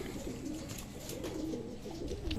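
Pigeons cooing at a loft as a racing pigeon arrives home from a 250 km derby, a steady low murmur of coos with light rustling throughout, no talk.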